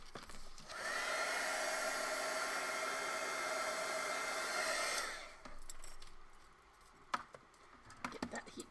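A heat tool blows hot air over a purple slow-stitch journal, a steady close whooshing roar for about four seconds that then cuts off, followed by light tapping and rustling handling sounds.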